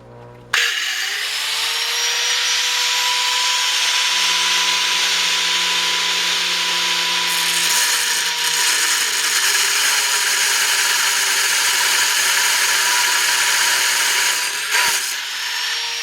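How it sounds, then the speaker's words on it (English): An angle grinder with a cutoff wheel slices through the tip of a wheel stud, giving a loud, steady high-pitched whine that runs unbroken for about fourteen seconds before spinning down near the end. "we're gonna just cut the tip of this stud off with this cutoff wheel on the side grinder"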